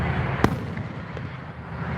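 A single sharp firework burst goes off about a second in during a live Fourth of July-style show, with a fainter pop later over a steady crowd and outdoor rumble.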